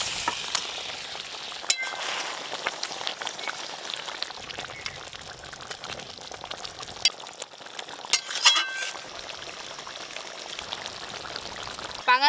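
Fried pangas fish added to simmering gravy in a pot, with scattered clinks and scrapes of a utensil against the pan over a low bubbling background, a louder clatter near the end.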